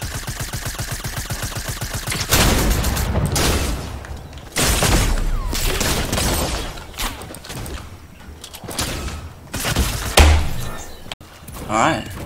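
Gunfire in the Fortnite video game, with bursts of shots and impacts spread through the clip at close to mid range, mixed with game sounds and a person talking over the action.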